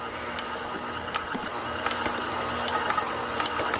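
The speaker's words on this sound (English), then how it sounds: "I just turn the mixer on low speed and gradually adding the eggs" A stand mixer runs on low speed while eggs go into chocolate babka dough, giving a steady, quiet mechanical whir with faint rhythmic ticks and clatters throughout.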